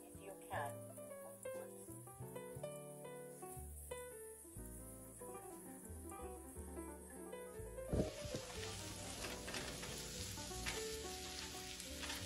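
Food frying in avocado oil in a pan, a continuous crackling sizzle that grows louder and denser midway after a clatter, with music playing underneath throughout.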